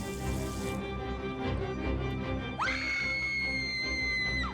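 A girl lets out a shrill, sustained scream that starts partway through and holds its pitch, loud and close, over a steady background of running-water-like noise.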